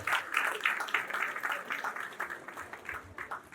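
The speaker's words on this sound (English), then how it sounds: "Ladies and gentlemen, with a round of applause, let's welcome Mr. Daniel McKorley." An audience at a start-up summit applauds to welcome a speaker, a fairly soft, steady patter of many hands clapping that trails off slightly toward the end.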